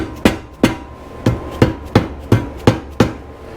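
Eight sharp hammer smacks strike a part on a 1968 Honda CB350 engine during a rebuild to free it, loud and close, in an uneven rhythm with short gaps, with no voices.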